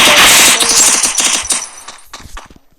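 A loud, rapid burst of UMP submachine gun fire in a video game rattles off close by, then tapers into a few scattered shots and fading echoes.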